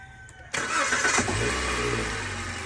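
A Toyota Rush with a two-year-old starting fault cranks and fires up loudly close by, settling into a steady idle with no talk over it.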